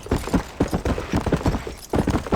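Horse hooves clip-clop in a steady, close rhythm as John Marston rides through rugged country in the video game Red Dead Redemption, with no talk over the galloping beats.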